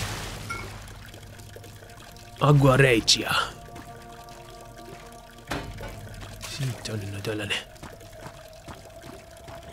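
Water pours in the video game Amnesia: The Old House, in two splashing bursts of about a second each a few seconds apart, while someone talks over the game sound.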